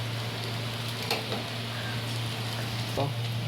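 Onion, garlic, chili and ginger fry with spices in a pan while an egg chop filling is made, giving a steady, close sizzle under a low constant hum, with a couple of brief stirring scrapes.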